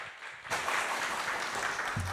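Congregation applause in a Korean church service welcoming a visiting pastor, starting abruptly after a quiet moment and holding as a dense, moderately loud patter of clapping hands.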